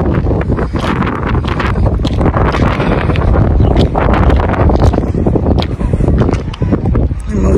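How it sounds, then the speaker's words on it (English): Strong wind buffets the microphone on the Malta coast at sunset, a loud, continuous roaring rumble with gusty surges. A voice is faintly mixed in. "the wind here is crazy."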